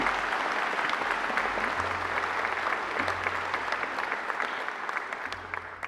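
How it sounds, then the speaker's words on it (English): Graduation ceremony audience applauding at a university hall, a dense steady wash of many hands clapping that holds evenly for several seconds before thinning slightly at the end. "I think he deserves another great round of applause"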